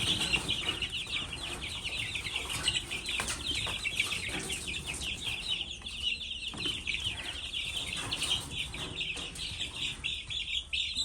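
A group of backyard chickens clucks and chatters continuously up close, with overlapping high peeps and soft murmuring calls throughout and no other sounds.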